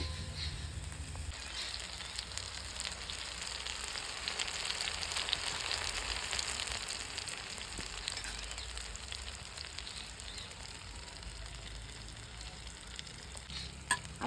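Chicken curry ingredients fry steadily in a pan, a continuous close sizzle with a bright crackling hiss that swells slightly midway and then eases, with no voices.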